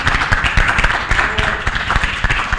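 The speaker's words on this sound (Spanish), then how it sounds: "Gracias, un aplauso." Lecture audience applauding, a dense patter of many hands clapping at moderate distance, steady throughout with no voices over it.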